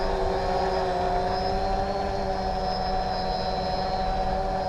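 A wood frame tricopter drone hovering in place, its propellers giving a steady, loud, close buzzing drone with a constant pitch and no pauses or talk.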